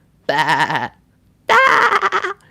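A human voice imitates a goat with two wavering, nasal bleats separated by a short pause. Both are loud and close, and the second is longer and brighter.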